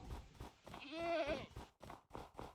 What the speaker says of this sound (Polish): O, znowu mamy kozy, fajnie.